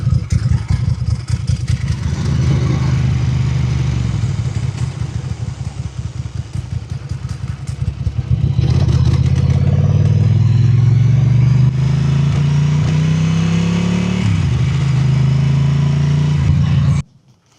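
A Ducati motorcycle engine runs close by with a throbbing idle, then revs up into a louder, rising roar that settles and rises again before cutting off abruptly at the end.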